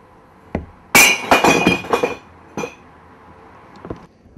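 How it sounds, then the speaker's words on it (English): A glass bottle drops into a brush-lined recycling bank hole in Edinburgh, giving a loud clinking crash followed by a rapid rattle of glass clinks that fades over about a second, with a faint knock before and a couple of later clinks. "I'm going to recycle this glass bottle today"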